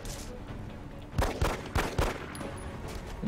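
Pistol shots from the video game XCOM sound as four sharp, fairly loud reports in quick succession over a continuous game soundtrack background.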